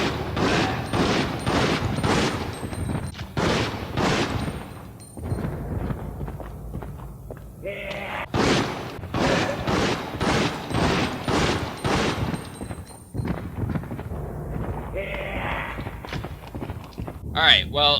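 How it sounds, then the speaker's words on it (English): Rapid bursts of video game gunfire ring out while zombies are shot, loud repeated volleys broken by short pauses, with someone talking in between. "the first zombie took 7 shots, about from a medium range"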